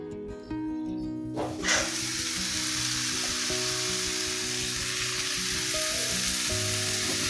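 Whole wheat bread toasting in Blue Band margarine in a pan: a brief clatter, then a loud, steady, close sizzle that continues without a break.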